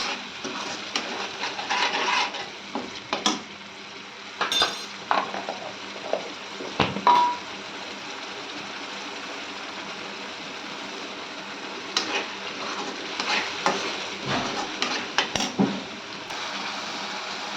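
Masala paste for stuffed brinjal (gutti vankaya) curry being stirred and fried in oil in a pan, with intermittent spoon scrapes and clinks over a steady soft sizzle, close and fairly quiet, no talking.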